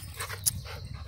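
A Rottweiler plays with another dog, with soft panting, snuffling and faint scuffling movement, quiet and fairly close, with no voices.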